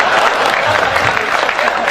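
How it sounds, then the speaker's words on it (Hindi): Audience clapping at a Hindi poetry recital, a loud dense wash of many hands, continuous and close, with crowd murmur mixed in. "संपत जी आप भी ताली बजाओ"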